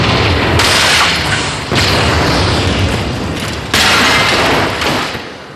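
A Warthog vehicle blows up in Halo 2 amid heavy, continuous booming blasts and gunfire, loud and close, with several sharp new bursts cutting in over the roar.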